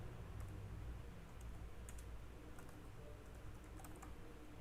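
Fingers type on a computer keyboard at a steady quick pace, with soft clustered key clicks and a few sharper taps, faint and close, with no talking.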